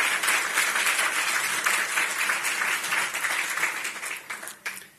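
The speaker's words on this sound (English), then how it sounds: "So please give them a big round of applause." Lunch guests at the Carpinteria Chamber of Commerce State of the Community luncheon applaud a film crew, a dense wash of clapping from a large room that thins out and ends with a few scattered claps.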